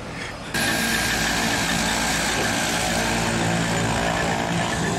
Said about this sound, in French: L'avion qui repart.